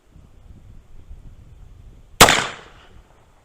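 A single sharp report from a JH Dance Brothers Confederate cap and ball black powder revolver, loud and close, with a short ringing decay after quiet outdoor background and light wind.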